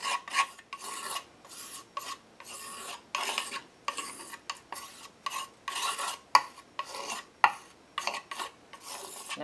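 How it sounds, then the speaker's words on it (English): A palette knife spreads acrylic paint across a collage background in a steady series of short, close rasping scrapes, each stroke a brief gritty rub separated by tiny pauses, continuing rhythmically with no voices. "we're just going to use the palette knife to spread that."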